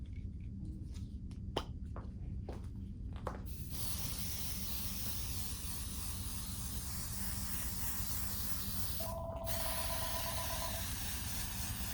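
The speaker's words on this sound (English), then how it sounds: "I'm going to go ahead and use the KK2000 and spray my piece right here" After a few soft clicks, an aerosol can of KK2000 spray adhesive sprays onto quilt fabric in a long, steady hiss, close and continuous, with a brief pause near the end.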